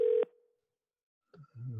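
A single ringback tone on an outgoing phone call, steady and then cut off, followed by silence and a few faint murmurs.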